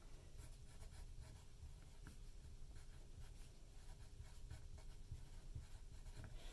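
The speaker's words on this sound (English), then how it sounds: "I'm going to write my date" A date is handwritten with a pen or pencil during a math lesson, giving a very faint, continuous scratchy stroking sound close to the microphone.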